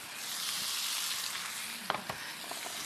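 Fennel and onion frying in a pan, a continuous soft sizzle with a few scraping clinks from stirring near the end, no talking.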